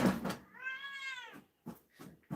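A domestic cat gives a single drawn-out, rising-then-falling meow close by, followed by a few soft knocks and shuffling sounds.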